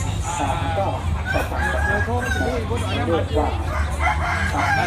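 A rooster crows loudly amid clucking fowl at the Northeast Thailand agricultural fair at Khon Kaen University, its calls rising over a busy crowd hum and nearby voices.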